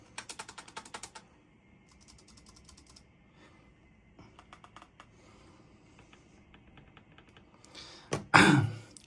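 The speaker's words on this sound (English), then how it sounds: "the keyboard presses are very loud" Loud clacking keystrokes on a Logitech K830 backlit keyboard come in rapid bursts, separated by quieter stretches, followed near the end by a short breathy exhale.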